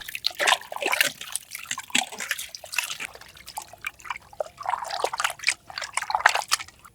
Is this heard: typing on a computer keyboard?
no